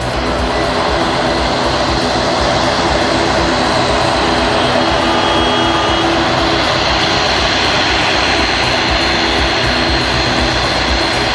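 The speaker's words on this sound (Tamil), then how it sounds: "முதல் விமானத்திற்கு வாட்டர் சல்யூட் அடித்து வரவேற்பு." An airliner arrives as the first flight at the new Trichy airport terminal, its steady loud jet engine roar filling the scene without pause.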